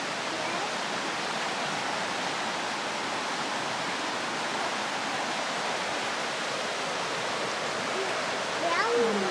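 Ragged Falls on the Oxtongue River in Canada roars as a steady, dense rush of falling water, loud and unbroken throughout, with a brief voice near the end.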